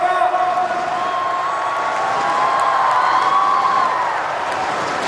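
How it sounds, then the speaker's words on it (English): A stadium crowd at the 2017 SEA Games athletics final after the men's 3,000 m steeplechase keeps up a steady, dense roar of cheering, with a commentator's voice running over it. "Cheered on by the crowd,"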